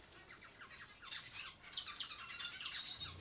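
Small birds chirp and squawk in a busy, overlapping chorus, fairly close and steady throughout with no talking.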